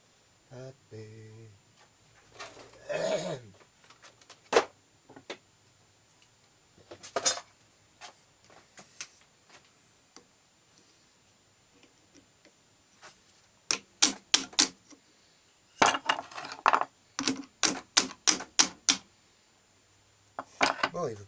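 A tool taps sharply on original Motobécane Motoconfort shock absorbers during dismantling: isolated metallic knocks, then rapid bursts of close, crisp strikes, with a little speech near the start.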